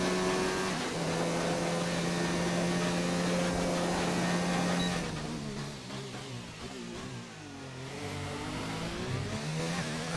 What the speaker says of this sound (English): That deep Renault engine.